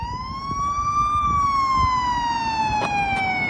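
Police car sirens wail loud and continuous in a pursuit, one rising-and-falling tone sweeping slowly over steady road rumble, with no voices heard.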